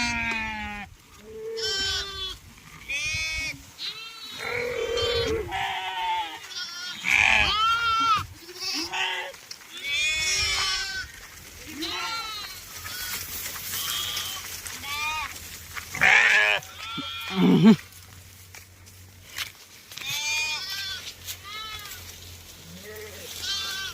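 A flock of sheep, hungry during a drought with little grass, bleats repeatedly. Several loud, wavering cries overlap or follow one another close by, with quieter gaps between the calls.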